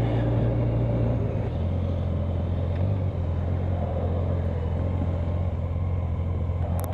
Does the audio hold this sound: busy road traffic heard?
yes